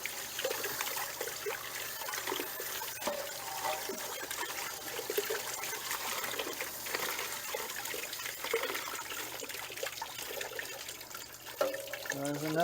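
Water trickles and splashes steadily out of an RV water heater during a flush, a continuous close gurgling flow with a louder burst near the end; a person talks faintly in the background.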